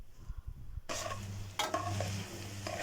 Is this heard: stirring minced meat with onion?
yes